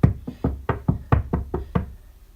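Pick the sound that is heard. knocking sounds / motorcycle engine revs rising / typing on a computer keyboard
knocking sounds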